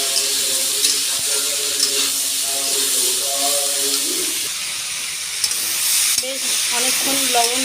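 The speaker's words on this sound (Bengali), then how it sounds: "কড়াতে তেল দিয়েছি তেল গরম হয়ে গেছে লবণ দিলাম উচ্ছে আলু" Salted bitter gourd and potato pieces fry in hot oil in a kadai with a steady crackling sizzle. Faint voiced sounds surface over it now and then.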